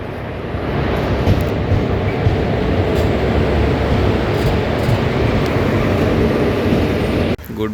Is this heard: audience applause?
no